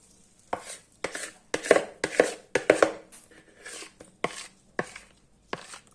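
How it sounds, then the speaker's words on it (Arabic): A cake pan filled with chocolate batter is knocked against a kitchen counter about ten times in an uneven rhythm, each sharp, close thump standing alone with no talking. "ودابا كنفرغوا الخليط في المول وكنهزوه يدينا الفوق وكنفرغوه باش ما يبقاش فيه هذاك الهواء"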